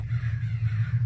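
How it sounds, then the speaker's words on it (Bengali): Crows caw in a dense flock in a park, heard as a steady cawing layered over a low droning hum for about a second, a spooky sound effect in a Bengali ghost story. "যেখানে একটি গাছের সামনে প্রচুর কাক ডাকাডাকি করছিল।"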